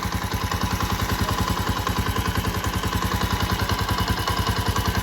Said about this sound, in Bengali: ইঞ্জিন সাউন্ডটা আর একটু শোনায় আপনাদের কাছ থেকে